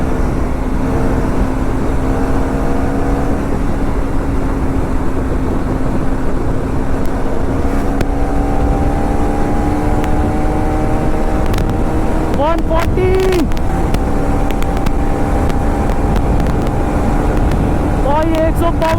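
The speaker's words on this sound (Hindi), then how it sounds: "इसका भाई पूरा बबलिंग मार रहा है" Motorcycles in a street race, a KTM Duke 390, TVS RR310 and Duke 250, droning loudly with exhaust bubbling and rising revs under steady wind buffeting, as a voice talks over the engines throughout.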